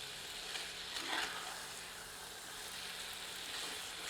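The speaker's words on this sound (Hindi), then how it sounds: "मसाला अच्छी तरह भुन चुका है और इसमें से तेल भी पृथक हो रहा है।" Chicken curry masala frying in oil after long roasting, a quiet steady sizzle with a brief louder stir or spatter near the start.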